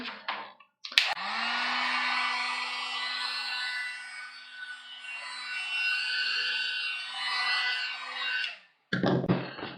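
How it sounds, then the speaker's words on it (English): A heat gun blows steadily on a cosplay mask built on a mannequin head, a loud continuous whooshing hum with a low tone running for about eight seconds, starting and stopping abruptly with brief handling noise at each end. "I am going to use my heat gun here."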